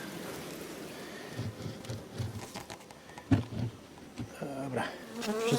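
Honeybees buzz around hives set among buckwheat, a soft continuous drone with louder passes as individual bees fly close, alongside occasional light rustles and taps.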